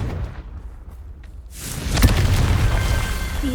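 In the video game Hogwarts Legacy, a Confringo blasting spell hits and explodes with a loud, rumbling boom that swells after a quieter start and then sustains as a heavy roar with crackling debris, without speech.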